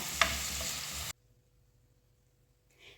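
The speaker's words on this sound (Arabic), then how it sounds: "غادي نقلي كلش مع بعض" Chicken frying in a pan with hot chili pepper and garlic, a loud stirring sizzle for about a second that cuts off abruptly, leaving near silence with a faint rustle at the end.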